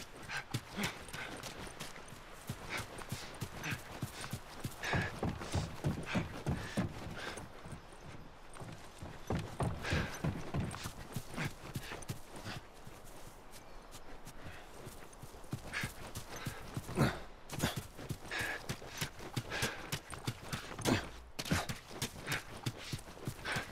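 Horse hooves clip-clop in a steady, continuous rhythm throughout, loud and close, as horses walk across the university grounds in the video game The Last of Us Remastered.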